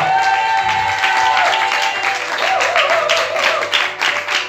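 Church congregation applauding and cheering during a French-language worship service, with dense, sustained clapping and crowd noise filling the space and a sung or chanted voice carrying over the top.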